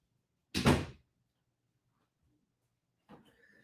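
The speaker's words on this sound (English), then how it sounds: "I'm going to close my office door." An office door swings shut with a single loud thud, followed after a pause by faint rustling and a distant dog's bark.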